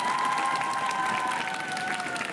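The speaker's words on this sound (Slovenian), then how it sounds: "mislim, da si zaslužijo en velik aplavz" An audience applauds and cheers for school teams during a word-building quiz contest, a brief, even wash of clapping with a steady musical tone held underneath.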